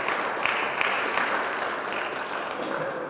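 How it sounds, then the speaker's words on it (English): Another round of applause at a Brownfields Fund award celebration, steady indoor clapping that holds evenly throughout with a few sharper claps popping out of the wash. "Another round of applause for Clinton."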